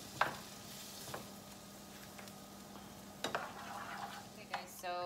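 Carne con papas, meat and potatoes seasoned with salt and pepper, sizzles steadily in a pan while a utensil stirs it, giving soft scrapes and clinks over the constant frying hiss, with a sharper clatter near the end.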